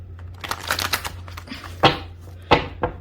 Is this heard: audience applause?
no